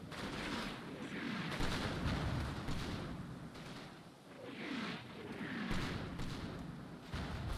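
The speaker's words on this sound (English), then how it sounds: "Mortar fire is coming down" Mortar fire in the wargame Combat Mission: Red Thunder, a steady run of distant booming impacts and rumbling blasts repeating every second or so.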